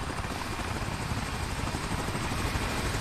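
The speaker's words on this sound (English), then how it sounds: "You got a helicopter. Damn helicopter to catch me?" A helicopter in the video game American Arcadia chases the player with a constant dense rotor whir. It sounds steady and fairly distant, with no talk over it.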